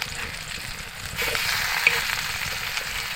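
Fish fries in oil on a Konkan wood-fired chulha stove, a close, steady sizzle with light spattering that thickens slightly midway through the short stretch.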